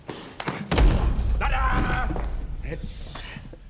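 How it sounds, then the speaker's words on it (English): A heavy, close thud as a head is slammed into a table in a scene from The Dark Knight, one sharp impact with a low boom, followed by groaning and voices. "he really does slam his head into the table"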